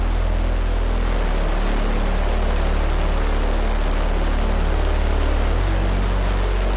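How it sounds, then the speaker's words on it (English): A loud, dense wall of heavily distorted bass roars continuously with a gritty, buzzing low-end hum throughout, and the pitch shifts near the end. "So huge amounts of distortion on that."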